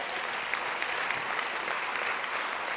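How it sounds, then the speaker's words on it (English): A commencement audience at a medical school graduation claps steadily for nearly three seconds, a dense and even patter of many hands heard from a distance in a large hall, with no voices over it. "we have to give her a round of applause just for that"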